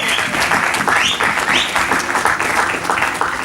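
A church congregation at an evangelical service breaks into steady applause, a dense continuous patter of many clapping hands filling the room, with a few raised voices and cheers rising through it.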